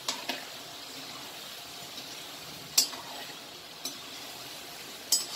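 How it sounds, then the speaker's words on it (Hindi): Modak frying in hot oil until brown, with a steady soft sizzle throughout and a few sharp metallic clinks of a spoon against the pan, close and moderately quiet, no talking. "धीरे से हिलाएंगे, ऊपर नीचे से कर लेंगे और इसको ब्राउन होने तक फ्राई करेंगे।"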